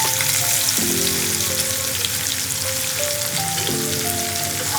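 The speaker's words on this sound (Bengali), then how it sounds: "তেল গরম হতে হতে আমি দিয়ে দিলাম দুটি তেজপাতা ও কুচিয়ে রাখা পেঁয়াজ" Two bay leaves and chopped onion frying in hot oil in a frying pan produce a dense, steady crackling sizzle, close and loud throughout, with no voices.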